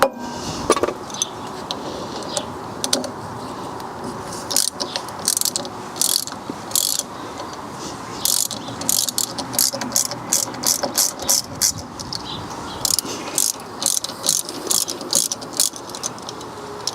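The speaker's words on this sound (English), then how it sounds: "that's all 3 bleeder screws removed from this side" A hand ratchet working brake bleeder screws loose on an old barn-find BMW, with rapid clicking pawl bursts repeating in quick back-and-forth runs, close and fairly loud against a steady background hum.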